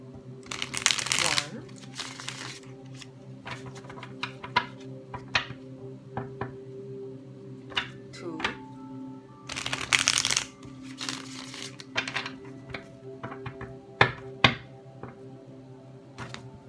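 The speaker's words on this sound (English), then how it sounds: "We'll shuffle 3 times" Tarot cards are shuffled in three separate bursts of riffling, close and crisp, with light taps and handling noises between them over a faint steady hum.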